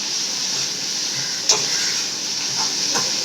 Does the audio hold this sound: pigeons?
no